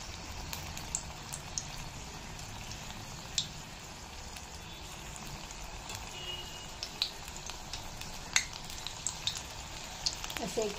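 Bhaji fritters dropped one by one into hot oil in a kadhai, a steady moderate sizzle with intermittent crackles and small pops throughout, no talking.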